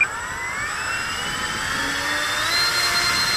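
Dynam Grand Cruiser electric RC plane powered by a 3S 2200 LiPo battery, its motor giving a steady, continuous whine that climbs slowly in pitch as it flies past at a moderate distance. There is no talking.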